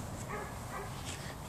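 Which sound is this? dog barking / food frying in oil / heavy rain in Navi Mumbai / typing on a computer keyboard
dog barking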